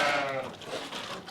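A sheep on a Portuguese farm gives a single short, wavering bleat at moderate distance, with faint ambient noise around it.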